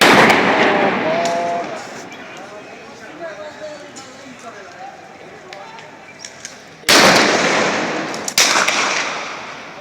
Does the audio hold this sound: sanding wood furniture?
no